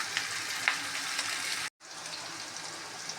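Onion sautés in a pan with a steady sizzling crackle, close and continuous, broken by a brief moment of silence before the frying resumes.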